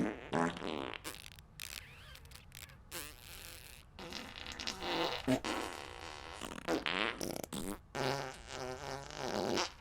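Farting sounds ring out in a long run of loud, sputtering bursts, one after another with brief gaps between them, and they dominate the clip.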